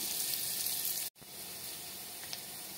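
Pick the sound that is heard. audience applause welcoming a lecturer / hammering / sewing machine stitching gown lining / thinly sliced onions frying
thinly sliced onions frying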